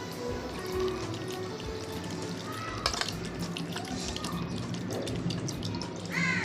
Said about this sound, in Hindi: अब इसके अंदर हम बिल्कुल ठंडा यफ पानी डालेंगे